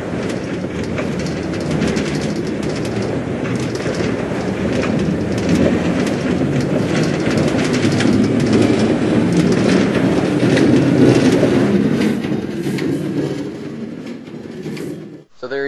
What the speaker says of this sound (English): minecarts now make sounds when traveling on rails